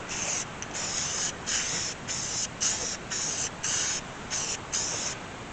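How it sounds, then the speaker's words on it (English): A spray can puts a light coat of primer onto brake parts for a 1964 Ford Falcon, about ten short hissing bursts in an even rhythm, close and fairly quiet, with no talk. "go ahead and put a light coat of primer on first"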